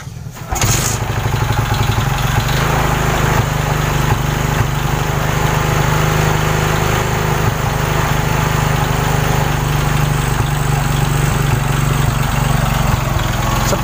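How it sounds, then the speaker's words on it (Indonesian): A motorcycle engine, cold and set to a high idle, cranks and catches within the first second, then settles into a loud, steady, close idle that runs without a break to the end. "Oke, langsung saja kita nyalakan."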